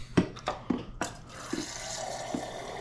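Water from a kitchen tap starting after a few clunks and handling knocks, then running as a steady, moderately close stream into the sink.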